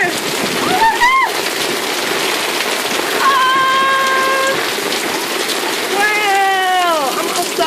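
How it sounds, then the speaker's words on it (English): Heavy rain pours steadily onto a porch in a loud, continuous splattering hiss, with voices calling out over it. "I want to remove the umbrella, but it's raining."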